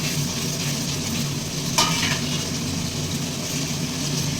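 Spice masala frying in oil while being stirred, a dense, loud, steady sizzle with a brief scrape near the middle and a faint low hum underneath.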